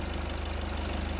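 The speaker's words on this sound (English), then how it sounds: "the engine has started immediately" A Volkswagen 2.0 TDI Blue Motion Technology diesel engine idles steadily just after a fuel filter change, giving a close, even, low rhythmic clatter.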